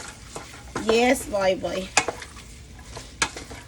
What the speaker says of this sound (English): We'll add a little bit more as we go with the sauce. And we're just going to stir it all together.